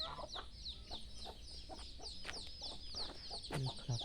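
Backyard chickens in a rural village home, with soft, faint clucks and brief calls scattered over steady outdoor ambience and a few bird chirps.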